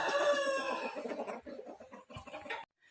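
A fighting rooster crows once, loud and close, a long strained call that breaks into a rough, clucking tail before cutting off abruptly, with no other sounds around it.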